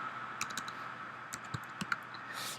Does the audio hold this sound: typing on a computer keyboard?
yes